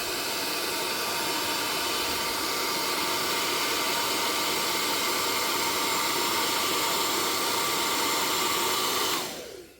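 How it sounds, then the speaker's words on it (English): A hair dryer blows with a loud, steady rushing hiss for several seconds, heat-sealing smoked reflectors on a Honda Rebel motorcycle, then cuts off abruptly at the end. "if I run the hairdryer over it, it just helps it to seal a bit better"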